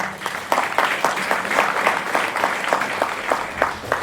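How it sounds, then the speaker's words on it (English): A crowd applauding steadily at a school ribbon-cutting ceremony, dense clapping at a moderate distance that holds evenly throughout with no voices over it. "Once again, a round of applause."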